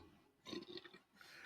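A soda burp, one short guttural belch on its own with no talk over it.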